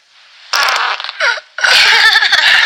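A person breaking wind in several loud, close, drawn-out blasts, the sound sputtering and changing pitch between bursts, with short gaps between them.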